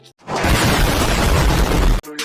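A single loud explosion from a grenade-like device bursts in with a sharp attack and holds a dense, roaring blast for close to two seconds before cutting off abruptly.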